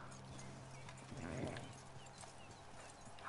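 Horse hooves clip-clop in the Red Dead Online video game, a steady soft rhythm of footfalls with a faint whinny partway through, played quietly throughout.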